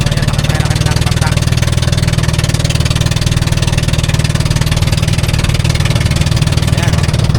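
A steady, loud boat engine drone with a low throbbing pulse runs throughout, a motorboat motor chugging along without letting up on the way to a mangrove area.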